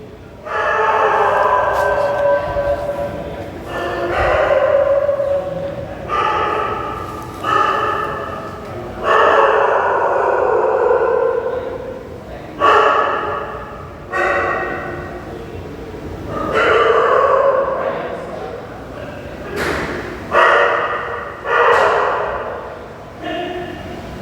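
Several dogs at a hostel bark repeatedly in bursts, fairly close, with yips and howling barks trading back and forth over about twenty seconds.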